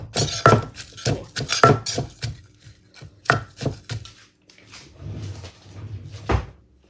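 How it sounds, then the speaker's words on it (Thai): Green mango salad with shrimp paste being pounded in a mortar, a string of sharp, close thuds coming in uneven bursts, with softer scraping and clinking between the strikes. "นี่โขลกลงไปเลยนะคะ เพื่อนๆค่ะ ำทุกอย่างให้เข้ากันเนาะ"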